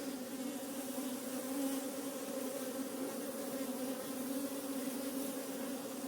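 Honey bees buzz on beehive frames in a dense, continuous drone from many insects, steady and fairly close, with no talking.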